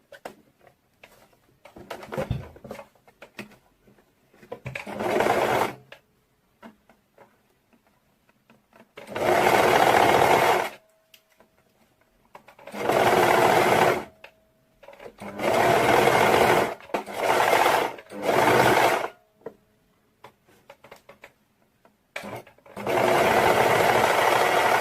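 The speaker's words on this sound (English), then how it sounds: "I had some issue with my sewing machine" A sewing machine stitches fabric for a ruched crop top in loud bursts of a few seconds each, separated by quiet pauses with small handling clicks; a faint voice is heard early on.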